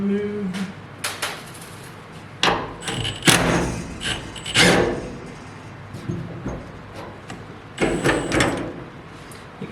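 Bolts are worked loose from the lower end of a hood strut on a 1955 Chevrolet Advance Design truck, with intermittent metallic clicks, scrapes and ratcheting bursts at close range, separated by brief quiet gaps, with some talk.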